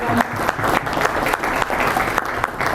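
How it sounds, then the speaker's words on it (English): An audience in a conference hall breaks into sustained, dense applause after a keynote speech, many hands clapping loudly together. "So a big round of applause for Dr."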